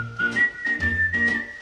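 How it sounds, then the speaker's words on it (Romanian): A single person whistles a clear, steady melody of sustained and gliding notes alone, close and fairly loud, in a 1963 Romanian song about whistling on the street. "Dar fluierând pe stradă"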